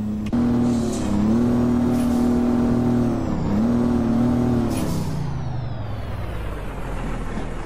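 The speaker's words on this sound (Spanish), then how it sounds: "vamos a calentar el motor" A heavy truck engine in American Truck Simulator idles loud and close, then revs up in several rising pulls with an air-brake hiss, fitted with an 18-speed gearbox; no voices.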